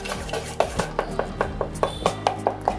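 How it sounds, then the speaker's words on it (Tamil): A broken egg is beaten into paniyaram batter in a bowl, giving a steady rhythmic clatter of a spoon or whisk tapping against the bowl, about a dozen close, evenly paced strokes. "இங்கே உடச்சி ஊற்றிட்டு நல்லா கலக்கணும்."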